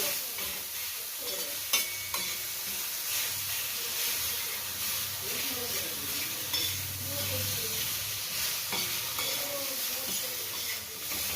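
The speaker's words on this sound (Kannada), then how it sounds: "ಮತ್ತು ನೀಟಾಗಿ ಹುರ್ಕೋಬೇಕು" Bitter gourd being stir-fried with garlic, jaggery and tomato in a pan, a steady close sizzle with scraping spatula strokes and occasional sharp clinks throughout.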